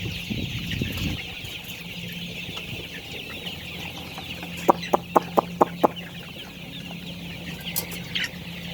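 Chickens and chicks cluck close by, with soft continuous peeping and murmuring and a quick series of about six sharp clucks partway through.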